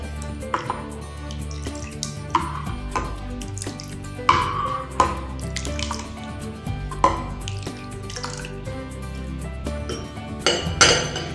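Watermelon juice mixed with ice-cold water, no ice cubes, stirred in a vessel, giving light clinks and scrapes of a spoon against the container, intermittent and close.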